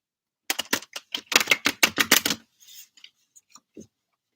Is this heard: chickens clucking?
no